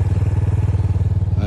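A KLX 300 dirt bike engine idles close by with a loud, fast, even thumping pulse that stays steady throughout.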